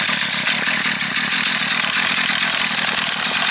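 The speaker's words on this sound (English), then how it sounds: "All right, the machine is now running." A Tecumseh small engine on power equipment runs steadily close by, a loud, continuous buzzing chug with a fast, even firing rhythm and no talking.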